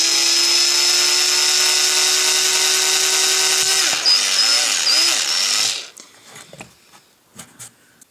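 A power tool drives screws into a combat robot wheel's treaded tyre, a loud, steady high motor whine that wavers briefly near the end, then cuts off and leaves a few faint handling clicks.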